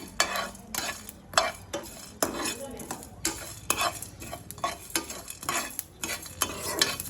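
Dry spice masala for a Gujarati samosa filling is roasted and stirred in a pan, giving repeated rhythmic scraping strokes with a soft sizzle close up, with no voices.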